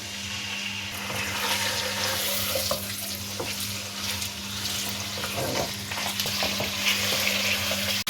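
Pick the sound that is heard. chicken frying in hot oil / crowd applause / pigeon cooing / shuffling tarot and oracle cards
chicken frying in hot oil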